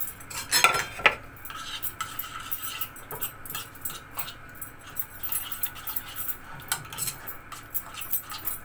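Spices, carom seeds and kachri powder being mixed into raw chicken for mandi in a bowl, a series of soft wet squelches and light clinks of a utensil against the dish in an uneven rhythm, close and fairly quiet.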